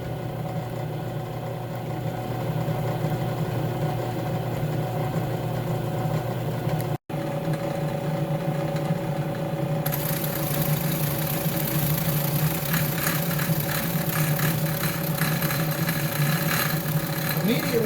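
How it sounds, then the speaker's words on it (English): A drill press spins an Amana DP-304 rosette cutter into a piece of cherry wood, giving a steady, close motor hum that turns harsher and more rattling partway through as the cut begins. "I have a nice piece of cherry here that we're going to try to cut a rosette in."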